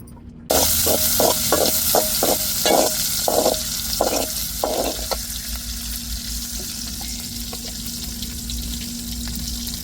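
Steady sizzling of fenugreek seeds and curry leaves frying in hot oil for fish curry, with a burst of sharp crackles early on that settles into a continuous hiss and low hum.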